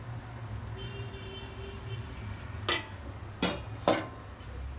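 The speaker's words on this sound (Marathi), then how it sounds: "चिकन चांगलं इकडे शिजायला लागले आता" Chicken for a Dhangari chicken recipe cooks in a pan with a low, steady sizzle. Three short scraping stirs stand out near the end.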